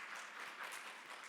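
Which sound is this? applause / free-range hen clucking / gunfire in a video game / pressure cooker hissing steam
applause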